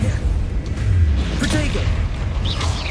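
Spell-casting effects from the Hogwarts Legacy video game, Confringo and Expelliarmus, come through as steady whooshing bursts and low booms, continuous and fairly loud across the stretch with a voice talking over them.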